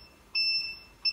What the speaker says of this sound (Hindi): अगर कोई कुछ आगे आ जाएगा ऑब्जेक्ट तो इसमें ओनली साइरन बजेगा